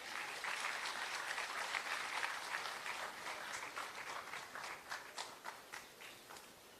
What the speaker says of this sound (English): Ladies and gentlemen, another round of applause for Kevin.